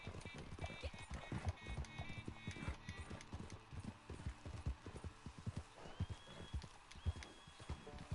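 Horse hooves clip-clopping at a steady trot in the Red Dead Online game, a dense, even rhythm of close hoof strikes over a faint outdoor background.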